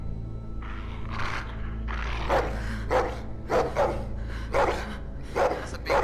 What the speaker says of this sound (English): That's a big dog, man.